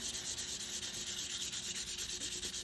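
Small piece of sandpaper lightly rubbed over the top of an embossing folder, a quiet close scratchy swish repeating in a quick, even rhythm of about twenty strokes.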